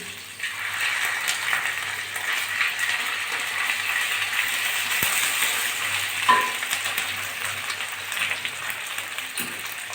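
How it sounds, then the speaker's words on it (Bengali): Bitter gourd frying in plenty of oil in a pan for mung dal, a steady close sizzle with occasional scraping stir and a single clink, no voices. "উচ্ছেটা প্রায় ভাজা হয়ে এসছে আমি এখন উচ্ছের ভিতরে তেল বেশি দেওয়া আছে"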